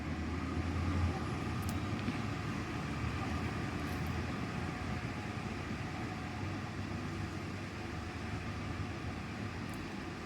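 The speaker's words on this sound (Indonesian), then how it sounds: "Nah sudah mulai ramai itu, kereta api sudah mulai jalan." A train runs past in Hong Kong during a typhoon, a steady, dense rumble of rolling rail traffic continuing throughout, broadband and unbroken, with faint higher clanks now and then.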